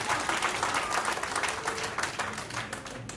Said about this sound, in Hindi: अरे इनके लिए ताली बजा दीजिए